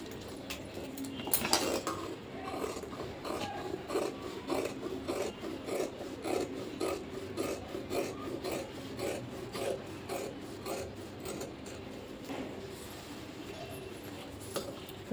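Scissors slice steadily through school uniform coat cloth, a close, repeated rasping snip that runs in a quick rhythm for the whole stretch, with faint speech in the background.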